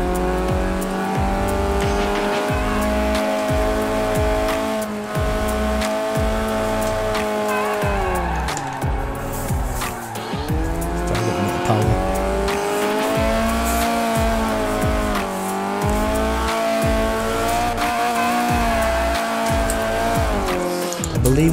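A 1993 Renault Clio Williams, front-wheel drive, in Forza Horizon 4: a loud, close engine revs and drops through repeated gear shifts, with tire squeal during fast driving.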